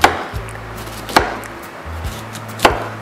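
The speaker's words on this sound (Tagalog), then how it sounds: "hiwain nyo lang ng rough chop lang" A knife rough-chops washed, drained cauliflower on a board, giving three sharp, separate chops spread over a few seconds with a faint low hum of the room between them.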